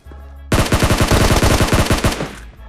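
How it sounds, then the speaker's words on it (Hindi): In a shooting video game, a loud, close burst of rapid automatic gunfire lasts about a second and a half, each shot crisp and evenly spaced, with no talking. "इतने में मुझे पीछे से गन शॉट आते हैं।"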